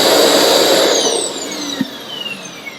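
A RevAir hair dryer running on setting 2 gives a steady, loud, close whooshing roar with a high whine, easing slightly toward the end.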